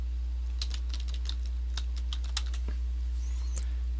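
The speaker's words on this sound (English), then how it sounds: "And then type in your domain name." Keys on a computer keyboard clatter in an irregular run of close taps while a domain name is typed, over a steady low electrical hum with no talking.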